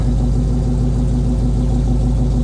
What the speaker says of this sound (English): What's making all the noise is a Holden 253 with a Holly carb on it and extractors and a almost straight through exhaust